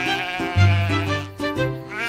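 Sheep bleat several times up close, each a loud, wavering, nasal call overlapping the next, with no talk.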